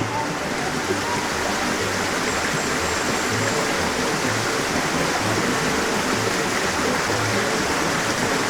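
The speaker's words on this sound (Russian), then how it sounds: "Вот здесь водопад." A waterfall on Camiguin island in the Philippines gives off a steady, dense roar of rushing water that holds an even level the whole time, with no voices heard.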